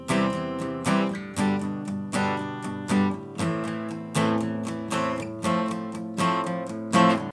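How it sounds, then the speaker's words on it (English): Acoustic guitar strummed briskly with a pattern of long and short strums at a faster tempo, rhythmic chord bursts repeating evenly, close and alone without speech. "When you're just doing the long and short strums together, it's gonna sound kind of like this in more fast speed."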